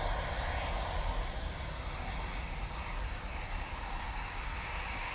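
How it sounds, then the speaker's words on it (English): Airbus A320ceo departing Manchester Airport for Bilbao, a constant broadband jet roar at moderate distance, steady and unbroken across the few seconds, with no voices. "Emirates A320 CEO going off to Bilbao now"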